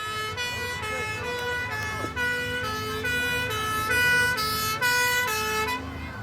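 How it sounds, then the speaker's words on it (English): Fire engines with sirens wailing arrive at a staged rescue incident during the Derby Fire & Rescue Show 2009. The loud, steady, pulsing siren tones persist throughout, with road and engine rumble beneath and no talk. "As you can see, the appliances are now attending the incident."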